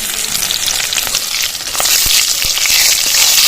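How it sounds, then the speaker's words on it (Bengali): Crushed garlic, dried chili and black cumin hit hot mustard oil in a kadai, a close, loud crackling sizzle that swells and brightens partway through, with a couple of soft knocks. "কড়াইতে সর্ষের তেল দিয়ে দিচ্ছি লঙ্কা ফাটিয়ে দিয়ে দিলাম কালো জিরে দিয়ে দিচ্ছি ফোড়নে থেতো করা রসুনটা দিয়ে দিচ্ছি"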